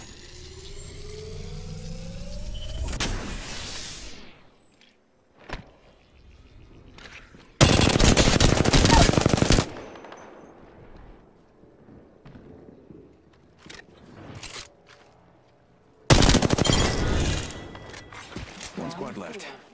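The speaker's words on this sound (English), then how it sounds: "Shots fired and they're hitting me." Gunfire in a shooter video game: two loud bursts of rapid automatic fire, each lasting two to three seconds, stand out against quieter game noise, scattered single shots and speech.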